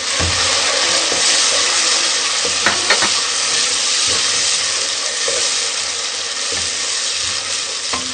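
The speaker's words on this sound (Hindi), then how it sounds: "टमाटर गलने तक हम इसको ऐसे ही पकाएंगे" Tomatoes frying with browned onions in a pot for a Pakistani mutton paya curry: loud, dense, steady sizzle right up close, with a couple of brief utensil knocks near the middle.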